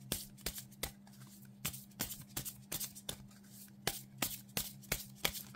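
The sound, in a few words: shuffling and drawing oracle divination cards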